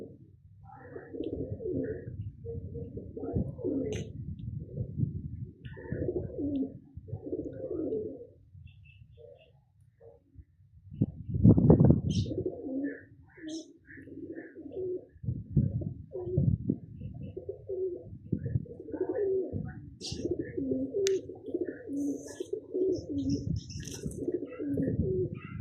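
Pigeons kept by a pigeon fancier coo in repeated soft, throaty rolling phrases close by, with a brief louder flurry partway through.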